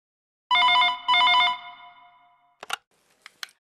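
A telephone rings at a clinic's front desk in two loud, close bursts of bright electronic trilling. A pause follows, then a few faint clicks and knocks as the handset is picked up.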